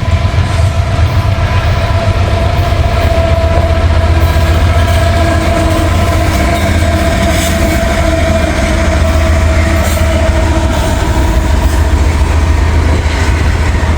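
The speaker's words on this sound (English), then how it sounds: "We got M276 in the siding." CSX freight train M276 sits in a siding at Vandalia, Ohio, its locomotive rumble a loud, steady low drone with constant mechanical texture throughout, close by and unbroken by speech.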